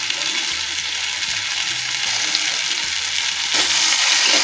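Pumpkin curry sizzling and frying in a pan with cumin and coriander powder, stirred steadily, a continuous loud hiss with faint scraping under it and no talk.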